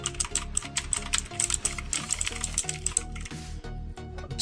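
Clicky typing on an RGB mechanical keyboard with clear plastic casing, a close, steady run of sharp key presses and bottom-outs in quick uneven rhythm, heard alone without talk.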